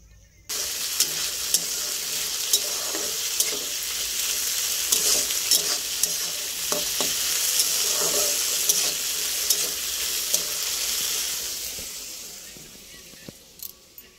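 New potatoes fry in a pan for a steady, loud sizzle that runs for most of the stretch, with scattered stirring scrapes and clicks over it, and a few brief spoken bits.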